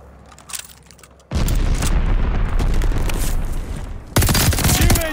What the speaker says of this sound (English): Called a bombing run. Incoming.